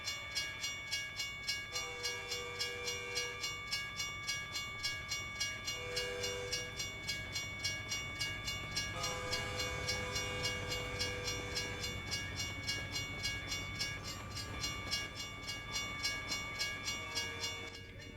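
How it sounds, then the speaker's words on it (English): A train passes a stopped truck in American Truck Simulator: a loud, sustained horn blares over a steady rhythmic clickety-clack of wheels on rails throughout. No voices. "Here comes train, so I'm going to stop."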